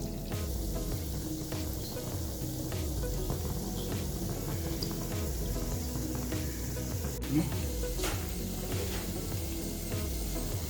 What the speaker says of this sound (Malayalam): നമ്മളിത് മീഡിയം ഫ്ലെയിമിലാണ് വറുത്തെടുക്കുന്നത്